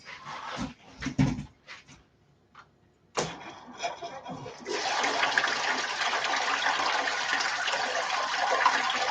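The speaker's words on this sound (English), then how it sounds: "let's fire up the pump again and let's go for it." A water pump is fired up and runs with a steady, broad rushing of flowing water that sets in after a few seconds of scattered knocks and handling noises, loud and continuous to the end.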